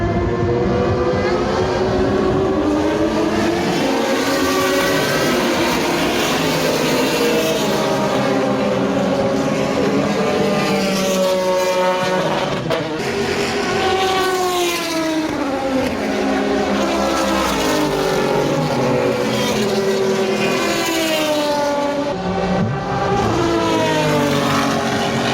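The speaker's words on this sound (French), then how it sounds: "il y a l'Endurance Racing Legend qui va démarrer" Endurance Racing Legends cars at Circuit Paul Ricard, heard from high above the track at the race start: a dense, loud, continuous mass of many engines, pitches rising and falling as cars accelerate and pass.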